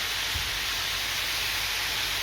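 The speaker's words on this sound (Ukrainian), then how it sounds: "Смажу капуста, тут кабачок, грибочки," Cabbage, zucchini and mushrooms frying in a pan give a steady, even sizzling hiss that holds at one level throughout, close and uninterrupted, with no talking.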